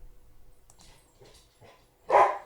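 A dog gives a few soft whimpers and yips. Then comes one loud, sharp bark close by, as it gets excited about someone at the door.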